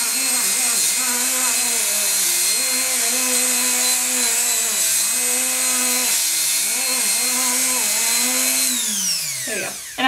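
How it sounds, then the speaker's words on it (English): A power buffing wheel polishes a polymer clay bracelet, giving a steady, loud whine with a sustained motor hum that dips and shifts in pitch as the piece is pressed against it, then winds down at the end. "buffing this because I want to give it a pretty good buff, and it's going to take a little while to do that"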